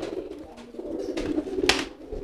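Domestic pigeons cooing during courtship, a soft murmuring series of low coos with a brief flutter or rustle near the end, close by over a faint steady background.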